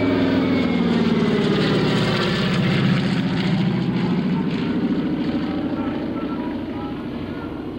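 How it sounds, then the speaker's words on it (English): A World War II-era C-60 Lodestar propeller transport plane passes during an airshow flyby, its engines droning loud and steady and slowly fading as it moves away, with a voice faintly audible underneath. "C-60 Lodestar, Lady Lode coming through, Daryl controls this airplane."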